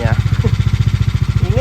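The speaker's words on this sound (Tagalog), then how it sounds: "Ligalig ng motor ni Kebe." A motorcycle engine runs close by with a loud, fast, regular thumping pulse, while a voice briefly talks over it.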